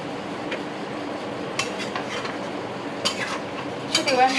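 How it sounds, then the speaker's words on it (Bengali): A spoon stirs paneer pulao with ghee in a pot, with repeated clinks and scrapes against the metal over a low background hiss, close and moderately loud. "তো আমি ঘিটা দিয়ে এটা মাখাবো।"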